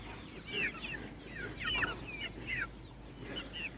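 Chickens in a closed coop cluck and squawk in repeated short bursts at close range over a low background hum.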